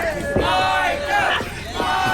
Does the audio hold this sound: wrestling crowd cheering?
yes